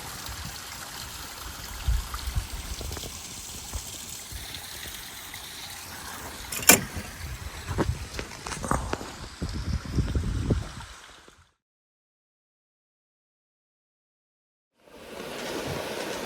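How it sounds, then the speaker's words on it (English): Small stream flowing into a lake, a soft continuous trickling wash with a few louder splashes and knocks, then dropping to silence before the water sound resumes. "It's one of the many, many, many streams that flows into this lake."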